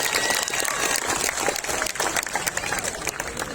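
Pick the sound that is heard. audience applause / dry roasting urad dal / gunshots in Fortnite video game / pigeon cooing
audience applause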